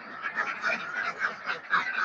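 A flock of laying ducks at a duck farm quacks in a dense, overlapping chorus, with nasal calls pulsing steadily about every quarter second and no pauses.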